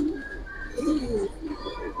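Close, low cooing from Giribaz pigeons, a Bangladeshi flying breed, in a loft collection: a few soft rolling calls that overlap and rise slightly near the middle, over a steady low background hum.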